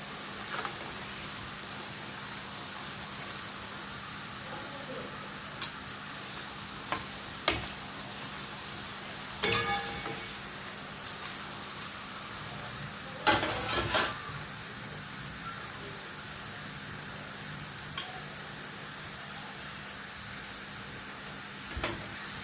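Raw banana slices fry in hot oil for wafers, giving a faint, low sizzle broken by a few sharp clicks and clatters of a utensil against the pan.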